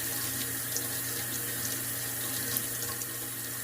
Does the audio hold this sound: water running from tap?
yes